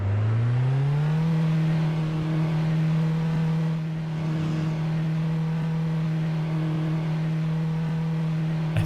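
A steady, sustained car engine drone from the Assetto Corsa racing simulator holds an even pitch throughout, loud and close, with no clear rise or fall in revs.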